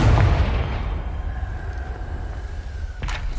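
The Confringo explosion spell in Hogwarts Legacy bursts with a heavy boom that rumbles away, followed by a thin lingering tone and a sharp second impact near the end.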